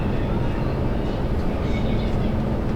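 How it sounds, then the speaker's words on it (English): An automatic driverless metro train on Barcelona's L9 line rumbles steadily in a deep underground tunnel, a loud, unbroken roar with no pauses. "we are taking the L9 subway to go to the terminal to pick up the car"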